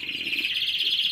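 Well-raised young pigeons chirp in a rapid, continuous high-pitched trill, close and steady throughout a short stretch.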